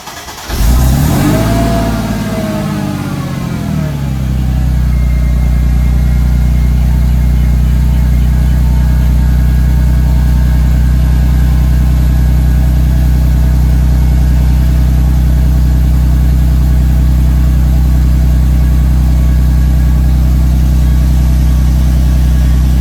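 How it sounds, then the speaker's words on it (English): The V6 engine of a Mercedes W203 C32 AMG with long-tube headers cold-starts loudly at close range, revs briefly, then holds a steady, rumbling high idle. "let me go ahead and do a quick cold start here for you guys"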